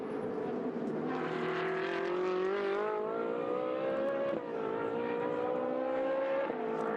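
Race cars scream past at Paul Ricard in a Trofeo Pirelli race, engines loud and sustained with rising and falling pitch as they accelerate, shift and pass.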